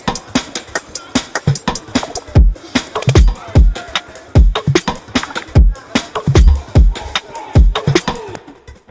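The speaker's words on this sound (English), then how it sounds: "just more drum kits going on" Full drum kit playing in a music track, with steady punchy kick and snare hits and busy cymbals driving a brisk, dense rhythm throughout, loud and upfront with no talking.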